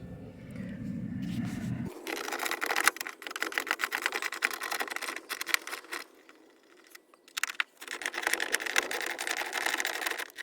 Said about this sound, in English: I'm going to use a 10mm deep well to get all of the bolts off.